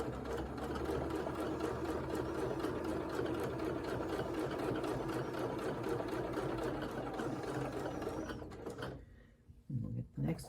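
Sewing machine stitching a quilt block for a scrappy sampler quilt, a steady continuous mechanical whir running close and loud for about eight seconds before stopping, followed by brief handling sounds.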